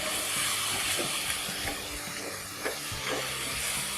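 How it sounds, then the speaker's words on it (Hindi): Chickpeas roasting in tomato paste in a pan over a raised flame give off a dense, continuous hiss and sizzle, close and steady, with a few soft knocks and scrapes and no talking. "अब इसमें मैं डाल दूँगी ये चने और इनको भून लूँगी मैं"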